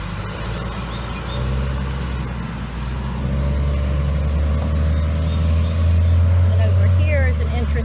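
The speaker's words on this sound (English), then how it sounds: "as I try and talk over another dump truck traveling through" A heavy dump truck rumbles steadily past a shade garden, its loud low engine drone swelling and building toward the end as it travels through, with a person talking over it.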